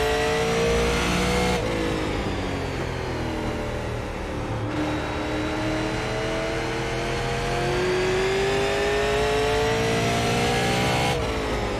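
A Super Late Model race car engine at Stafford Speedway in iRacing drones loudly and steadily throughout, its pitch sliding up and down with throttle and gear changes, with abrupt shifts at a few points.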